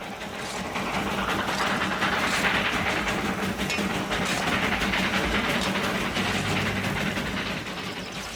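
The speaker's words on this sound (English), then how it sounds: "18 little locomotives run back and forth on the Darjeeling Himalayan line." A Darjeeling Himalayan Railway steam locomotive train running, with a steady, loud rolling rumble and rattle of the cars that holds evenly for the whole stretch.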